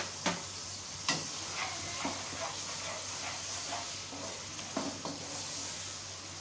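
Whole spices (a bay leaf, cloves, black peppercorns and cinnamon sticks) dropped into hot oil for beef biryani, setting off a steady close sizzle and hiss broken by a few sharp taps of a utensil.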